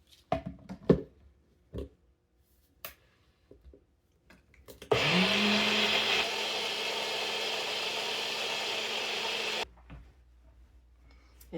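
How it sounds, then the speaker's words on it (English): Cottage cheese pancake batter with vanilla and baking powder whirred in a blender: a few clicks and knocks, then a loud, steady motor whine running about five seconds before a lower hum and abrupt stop. "I'm going to blend it up"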